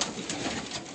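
Pigeons coo at a pigeon club in Baku, a soft, continuous murmuring over steady, noisy background ambience.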